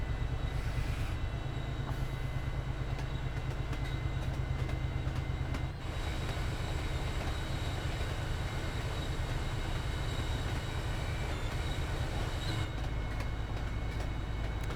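A simulated MBTA commuter train from a rail video game runs at speed, about 79 miles an hour, with a steady loud low rumble and a faint rhythmic rail clatter that continues throughout.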